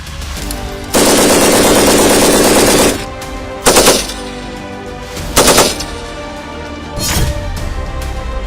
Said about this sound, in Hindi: MMG से गोलीबारी,